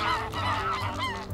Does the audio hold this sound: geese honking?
yes